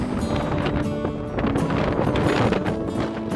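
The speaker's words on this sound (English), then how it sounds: "12 degrees Celsius with 20 to 30 km/h wind gusts" Steady broadband wind buffeting the microphone on a mountain hiking trail in the Trascau Mountains, Transylvania, 20 to 30 km/h gusts, a dense rumbling roar that swells in gusts throughout without pause.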